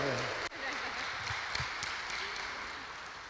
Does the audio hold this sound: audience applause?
yes